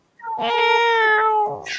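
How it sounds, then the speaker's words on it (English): A house cat gives one long, drawn-out meow, loud and close, with a brief breathy tail at the end and no one talking over it. "Good morning, cat."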